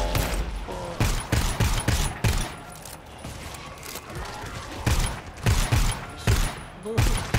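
Video game gunfire in rapid bursts of shots and explosions, loud and close, with short pauses between volleys and occasional voices.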